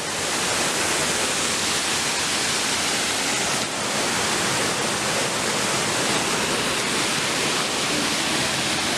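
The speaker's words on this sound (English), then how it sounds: "what do you think about that waterfall?" A waterfall pours steadily in a continuous, loud broadband roar that fills the whole stretch, close by and unbroken, with no voices over it.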